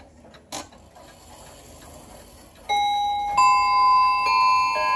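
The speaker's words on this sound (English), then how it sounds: "we have a Seth Thomas bell clock. No gongs, it's all bells." A Seth Thomas bell clock with no gongs starts chiming after a faint click of its mechanism, then clear ringing bell tones sound one after another and sustain, layering close and bright.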